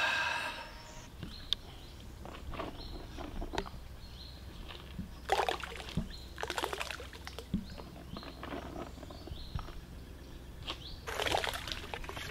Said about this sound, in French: un joli poisson qui va retourner à l'eau